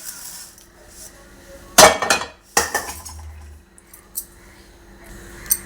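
Fried items for an amla pickle are tipped into a metal bowl with a couple of loud clattering clinks and scrapes, then a few softer taps, with quiet gaps between.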